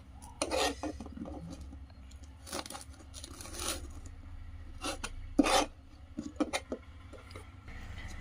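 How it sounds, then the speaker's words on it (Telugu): Green chillies sliced with a knife on a cutting board, giving sharp separate cuts and scraping rasps in irregular bursts, close and fairly loud, with no talking. "ఇప్పుడైతే పచ్చిమిర్చి అయితే కోసుకోవాలి"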